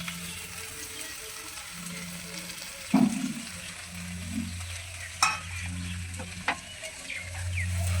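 Vegetable chachchari gets stirred in a pan over a soft background sizzle, with a few distinct scraping and clattering strokes standing out at irregular intervals.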